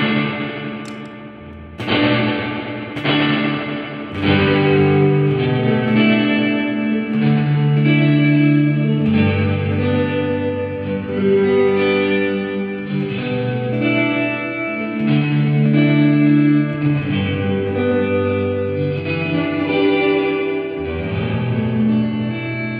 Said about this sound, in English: So again, hall reverb is nice and big.